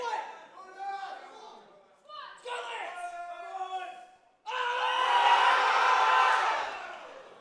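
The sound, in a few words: coach screaming for his lifter amid crowd cheering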